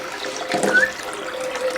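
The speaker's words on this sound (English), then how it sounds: "And we're going to put the vegetables in." Vegetables drop into a bowl of water mixed with baking soda, giving a brief splash and sloshing swirl close by, with no talking.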